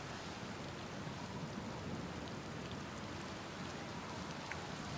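Rain falls in the video game Outer Wilds as a steady, even hiss of drops on surfaces, with an occasional faint low rumble like distant thunder, continuous throughout and with no voices.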